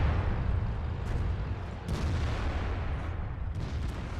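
An ST-I heavy tank fires on an enemy's lower plate in World of Tanks. Booming rumble and low engine roar run throughout, with a few sharp cracks of impact or gunfire poking through at intervals.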